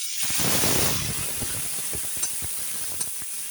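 Water poured into a hot pan of ground chili, cumin and coriander sets off a loud hiss and sizzle that fades into softer bubbling with a couple of light clinks of a utensil.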